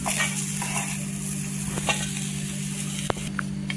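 Green chillies fry in oil in a pan with a steady, close sizzle, a continuous broadband crackle and a few sharp clicks of utensil contact, without speech.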